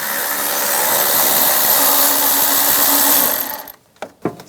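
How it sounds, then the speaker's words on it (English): A power tool whirs steadily with a 13mm socket while removing an AC hose bolt on a 1999-2006 Chevrolet Silverado 1500, loud and continuous for about three seconds before stopping, followed by a couple of faint clicks. "I'll take this hose off, use a 13mm socket."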